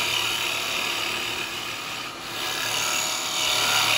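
A wood chisel cuts wet eucalyptus spinning on a lathe, giving a steady close hissing scrape that runs through the whole stretch and dips briefly in the middle, with no voices.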